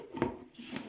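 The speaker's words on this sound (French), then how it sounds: "Et je remets le couvercle" A plastic Tupperware lid pressed back onto its container, making two short, soft clicks about half a second apart, close and quiet with no talk.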